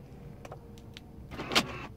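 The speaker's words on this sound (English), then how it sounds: "Okay, it locks the doors." A 1997 BMW 740i locking its doors by remote key fob gives a brief actuator whir and clunk, with a sharper click burst near the end, quiet and close with no talking.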